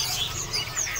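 Busy, overlapping chirps of panca warna birds at a bird market fill the clip, high twittering calls layered over a steady background hum, with no pauses.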